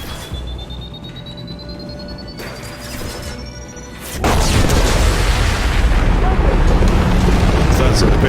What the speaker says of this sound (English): That's a big old explosion.